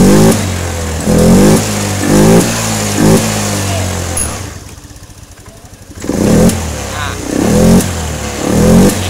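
Injected Honda Vario scooter engine revved hard in repeated rising bursts, loud and close, with a brief drop to idle midway, under a voice.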